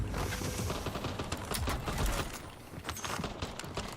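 Rapid gunfire fills a Warzone match on Verdansk, dense crackling shots rattling continuously for a few seconds, loud and close with no talk.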